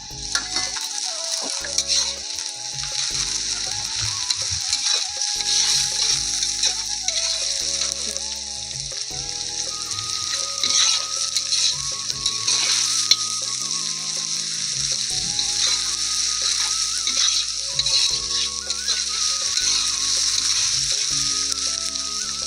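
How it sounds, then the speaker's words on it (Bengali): Onion and garlic frying in a pan on a clay stove, a dense, constant sizzle mixed with frequent stirring scrapes and occasional metallic clinks, close up and steady throughout. "পেঁয়াজ ভাজা হয়ে গেছে আমি রসুন দিয়ে দিচ্ছি"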